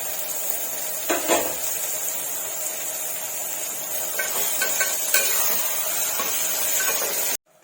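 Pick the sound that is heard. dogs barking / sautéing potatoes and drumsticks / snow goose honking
sautéing potatoes and drumsticks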